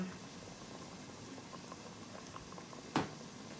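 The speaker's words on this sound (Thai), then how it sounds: "พอหม้อเดือดแล้วเนาะ" A pot of Thai sour curry (gaeng som) with water spinach bubbling on the stove, a steady close gurgle and patter of boiling liquid with one louder clink near the end, no talking.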